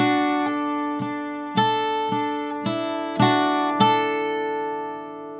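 Guitar picking the opening phrase of the old-time tune 'Ducks on the Millpond': a few ringing notes and double stops at an easy pace, with hammer-ons, each note left to sustain, close and clean.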